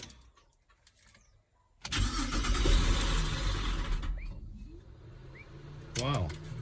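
A Holden Commodore VZ that had a no-crank, no-start fault cranks and catches, its engine settling into a steady rumbling idle for several seconds before a short rev near the end, heard close up.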